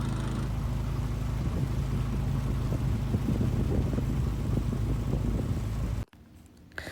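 A small motorboat engine drones steadily on an Amazon river in Brazil, with wind and water rushing past, then the noise cuts out abruptly near the end.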